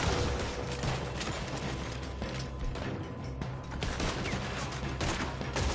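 Video game gunfire rattles in dense, continuous bursts of shots and clattering mechanisms, loud and close with no pauses, while the shooting carries on alone without talk.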